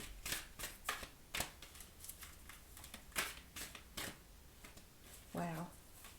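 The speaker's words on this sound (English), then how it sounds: "let's just pull an oracle card" Oracle cards being shuffled by hand: a series of quick crisp riffling bursts, close and fairly loud, with a short voice sound near the end.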